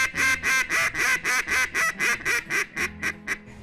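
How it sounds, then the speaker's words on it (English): Hail call blown on a duck call, a string of about thirteen loud, evenly spaced quacking blasts that taper slightly toward the end, close and alone with no talking. "All right, now we're gonna have the hail call."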